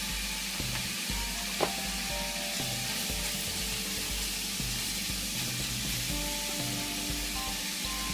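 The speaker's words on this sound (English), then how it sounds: "what we're doing here is searing all the sides to get in all the good flavors" Chunks of beef for stew sear in a hot pan with a steady, close sizzle throughout, with a few faint clinks and scrapes, and no talking.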